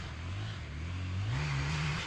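Enduro motorcycle engine pulling steadily in third gear, a continuous droning tone that rises gradually in pitch and loudness as it climbs, with no talk over it.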